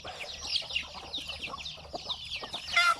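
Chickens on a semi-free-range farm clucking and chattering steadily, several birds close by with a busy overlapping stream of calls and a louder squawk near the end.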